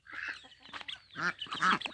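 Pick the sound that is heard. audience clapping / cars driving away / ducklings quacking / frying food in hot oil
ducklings quacking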